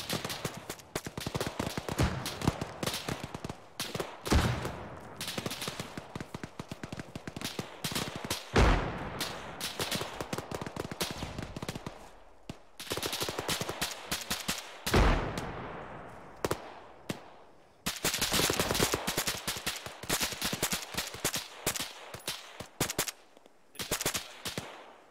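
Gunfire and explosions from a military video game fill the whole stretch: dense, loud bursts of automatic fire and heavy blasts, sustained with only brief pauses, and no voices.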